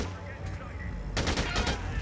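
Rapid automatic gunfire from an assault rifle shooting guards in the video game Dead Rising 2, a dense close burst of shots breaking in after a stretch of rumbling background noise.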